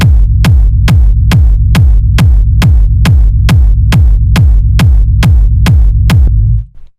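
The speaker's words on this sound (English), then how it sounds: "it just kind of gives it more of that, like, nice sort of rumbly texture" A deep, rumbly techno bass with reverb thumps in a steady, even pulse, loud and alone. Each hit has a droning tail, and the sound fades out at the end.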